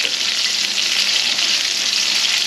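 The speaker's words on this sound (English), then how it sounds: "these are frying up really" Squirrel meat fries in hot grease in a pan, a loud, steady, even sizzle that crackles continuously throughout with no talking over it.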